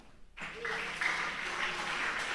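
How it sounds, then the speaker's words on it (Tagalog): A church congregation breaks into applause during a preaching service, starting abruptly after a quiet moment and holding as a steady clapping wash, moderately loud with a faint tonal hum beneath. "Palakpak."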